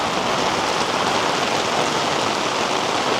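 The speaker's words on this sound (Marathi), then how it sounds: "आणि पाऊस बघा, अरे बापरे" Heavy monsoon rain pours down steadily on a village during the rainy season, a dense, unbroken hiss at close range with no voices heard.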